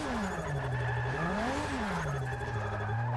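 A drift-tuned car in Forza Motorsport 6 slides sideways with a continuous loud tire squeal over an engine note that rises and falls as the throttle is worked.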